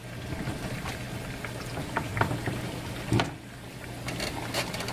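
Chicken pieces browning in a pot of hot oil, a soft continuous sizzle and crackle with scattered pops, faint and close, without talk.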